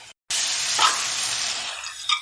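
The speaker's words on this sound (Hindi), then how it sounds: "इन्हें सौते कर लेंगे हल्के से, ऐसे मिक्स कर देंगे और लाइट ब्राउन करेंगे हम प्याज को" Chopped onions sautéing in a pan while being cooked to light brown for a Punjabi chicken curry: a short pause, then a steady, bright hissing sizzle that fades slightly, with a faint stirring clink near the end.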